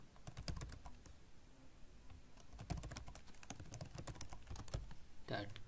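Rapid, fairly faint clatter of a computer keyboard as a name is typed into a register form, in irregular bursts of keystrokes against quiet room noise.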